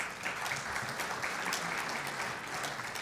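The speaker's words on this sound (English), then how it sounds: "So let's, let's give them another round of applause." Audience applause at an agriculture and food policy summit, a continuous, fairly quiet and even patter of clapping from a seated crowd that holds steady for the whole stretch.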